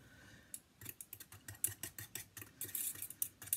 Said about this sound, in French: tout ce que j'ai utilisé, je le mets derrière moi dans le bac pour emmener à laver